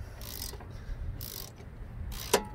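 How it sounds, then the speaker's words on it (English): A wrench works a bolt loose on a Jeep Renegade front strut: three separate bursts of metallic ratcheting clicks, each about a third of a second long, spaced roughly a second apart, close and fairly quiet with no talk. "You want to break it loose with your wrench first"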